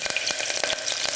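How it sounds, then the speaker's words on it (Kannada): Whole spices such as cinnamon and cloves sizzle with curry leaves in hot oil for a tempering in palak rice, a dense, close crackling hiss with quick pops throughout. "ಈಗ ಎಣ್ಣೆ ಕಾಯ್ದದ್ರಿ, ಒಗ್ಗರಣೆ ಇದು ಪತ್ತ, ಚಕ್ಕಿ, ಲವಂಗದ ಹಾಕಿನ್ರಿ. ಕರಿಬೇವು ಹಾಕೋತೀನಿ ರೀ."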